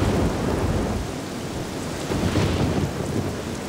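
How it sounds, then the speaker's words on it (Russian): Violent thunderstorm with heavy rain, a loud continuous roar of downpour with rumbling thunder swelling and receding throughout, no voices. "Яростный шторм обрушился на нас."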